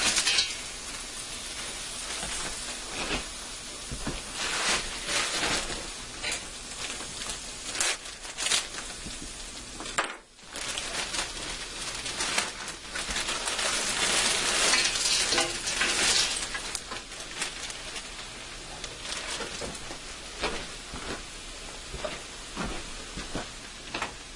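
A Hong Kong blend of stir-fry vegetables sizzles in a hot pan as a utensil stirs and scrapes through it, giving steady loud frying hiss and clattering strokes close up, with a brief pause midway and no voices.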